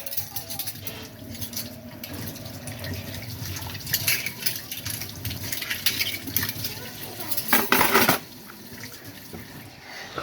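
Water runs from a tap while spoons and dishes clink and clatter under it, with a louder rush of splashing near the end.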